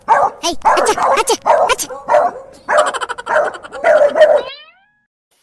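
Several dogs bark loudly and rapidly up close in quick bursts, ending with a high, drawn-out whimpering yelp.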